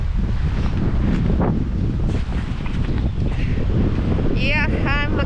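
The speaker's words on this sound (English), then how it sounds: "It's a little bit windy." Strong gusts buffet the microphone on a frozen Keweenaw Bay shore, a continuous roaring wind that sits loud and close throughout.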